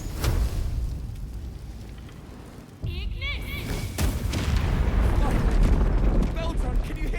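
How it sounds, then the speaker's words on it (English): A thrown bomb explodes in Baldur's Gate 3, with deep rumbling booms and crackling blasts alongside game sounds, including a sharp burst partway through, while a voice speaks over it. "That was an explosion."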